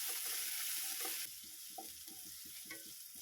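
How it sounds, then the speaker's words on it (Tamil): Chopped onion sizzles and fries in hot oil with cumin seeds in a pan for a Tamil oats breakfast dish, a steady close crackle with soft stirring scrapes throughout, no talk. "ஒரு வெங்காயம் பொடியாக நறுக்கி சேர்த்துக்கிறேன். வெங்காயம் நல்லா வதங்கி வரணும்."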